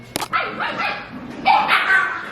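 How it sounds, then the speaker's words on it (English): Puppies scuffling and fighting at floor level, giving sharp yips, small barks and whimpers in quick, uneven bursts, close by and fairly loud. "I have puppies fighting at my feet. That's that sound."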